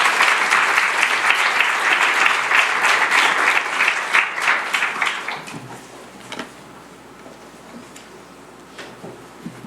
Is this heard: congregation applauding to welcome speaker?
yes